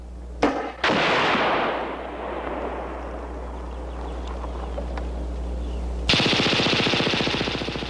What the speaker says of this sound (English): The functional firing with the HK-21 machine gun demonstrates the weapon's perfect operation